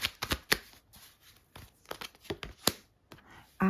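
Tarot cards handled and laid down on a table, a close series of sharp, uneven snaps and slaps with quiet gaps between them and a brief louder tone at the end.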